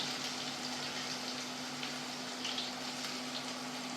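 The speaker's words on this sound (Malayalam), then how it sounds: "ഉള്ളിയിലത്തെ വെള്ളം പൊട്ടണതാ" Moisture from onions crackles and sizzles in hot oil during home oil preparation, a steady broad hiss with faint pops over a constant low hum, fairly quiet and without speech.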